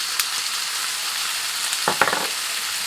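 Soy sauce goes into a hot frying pan of food, making a low, steady sizzle, with a couple of sharp clinks and a short burst of stirring near the end.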